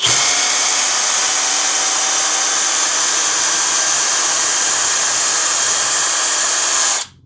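A Hanabi LJ-2023 cordless screwdriver drill rated at 140 N torque, driving a 1/4 by 100 mm screw, runs with a loud, steady, high-pitched whirring whine for about seven seconds and then cuts off abruptly.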